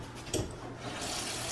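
Brief run of water from a kitchen sink tap while measuring water for cold brew coffee, a soft splash followed by a steady faint stream.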